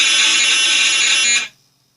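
A TonePrint transfer beamed through an electric guitar's pickup into a TC Electronic Hall of Fame Mini reverb pedal comes out as a loud, steady, harsh buzzing data tone lasting about a second and a half, then cutting off abruptly.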